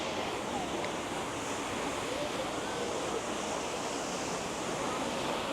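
Athirapally waterfall in Kerala roaring as a constant, dense wash of falling water, heavy and unbroken across the whole stretch. Wind buffets the microphone at times.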